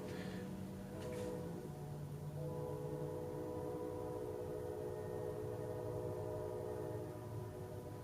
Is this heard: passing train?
yes